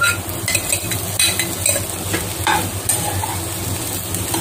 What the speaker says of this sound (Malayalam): എന്നിട്ട് നമുക്ക് സോയ ഇട്ടിട്ട് നമുക്ക് ഇളക്കി കൊടുക്കാം